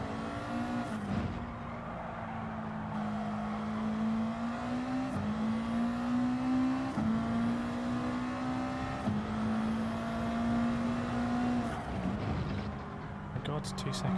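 A Subaru WRX engine in Gran Turismo 7 drones steadily through a rain race at Spa, with pitch climbing between gear shifts at regular intervals, and a voice talks over it.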